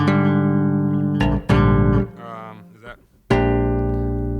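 Solo electric bass chords with low harmony notes, several sustained ringing chords struck one after another, full and somewhat muddy, close and loud with brief gaps between strikes.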